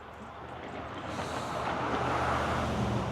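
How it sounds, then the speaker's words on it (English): Steady wash of road traffic from a distance outdoors near a trail, a continuous low rumble of passing cars and heavier vehicles that swells slightly partway through, with no voices. "And then there's the traffic and shit, but very peaceful."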